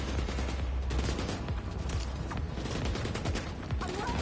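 Sustained rapid gunfire in The Division 2, dense crackling bursts of shots running continuously at close range with no voices.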